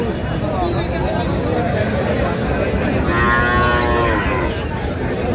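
A Sahiwal heifer calf moos loudly and close by for a sustained stretch at a busy cattle market, with the babble of many people talking all around it.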